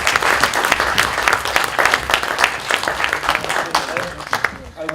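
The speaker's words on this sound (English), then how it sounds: "So can we give him a clap, please?" An audience claps at an evening community meeting about a football club, lively dense clapping with sharp individual claps standing out, steady throughout and tapering near the end.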